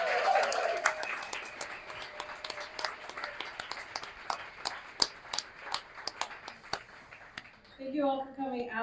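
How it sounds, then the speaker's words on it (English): Audience applause for readers at an evening literary reading, a steady patter of clapping for several seconds that thins toward the end as a voice begins speaking. "Let's have another round of applause for all the readers tonight."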